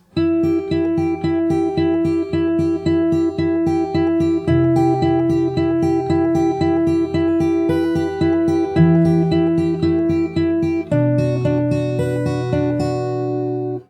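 Fingerstyle acoustic guitar plays an intro, a steady arpeggiated pattern of plucked notes over ringing bass, clean and close, ending on a sustained chord, with no speech.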